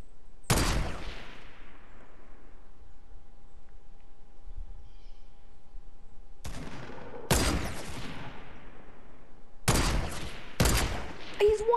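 Semi-automatic rifle fire in Fortnite Battle Royale rings out as a handful of loud, sharp single shots, one early and then spaced pairs and bursts later, each with a trailing echo over steady game ambience.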